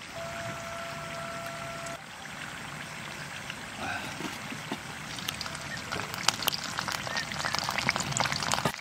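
Chana dhoka frying in white oil, a soft, continuous sizzle with faint bubbling that grows denser and crackles more toward the end, no talking.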